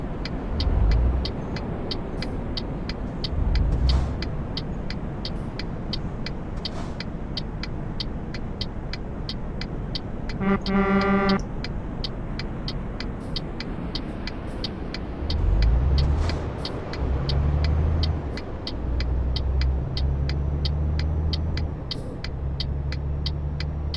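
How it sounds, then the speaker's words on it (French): A car approaches in Euro Truck Simulator 2, heard as a steady road rumble with engine swells that rise and fall, plus a short whining burst midway; it plays alone without voices. "Ah, c'est une voiture qui arrive."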